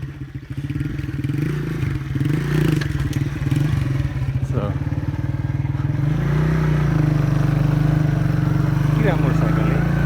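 Motorcycle engine running steadily throughout a ride, a low droning hum with occasional revving and rattles, with people talking over it.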